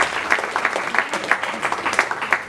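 An audience at a church service claps in a dense, steady burst of applause that stays fairly close and even for its whole length.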